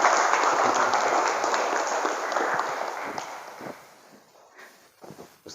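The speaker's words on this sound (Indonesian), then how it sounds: "Tepuk tangan buat rekan kita yang sudah bicara." An audience in a school anti-bullying seminar claps for a student speaker. The dense applause fills the room at first, then thins and fades over a few seconds, leaving scattered last claps.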